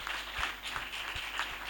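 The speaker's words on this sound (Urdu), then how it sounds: "آئیے زوردار تالیاں خداوند کے جلال کے لیے بجائیے" A church congregation claps loudly through a Sunday service at a prayer center, producing a steady, dense wash of many hands with no talking.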